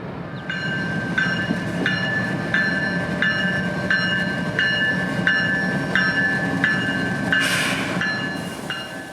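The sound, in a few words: CSX freight train passing on railway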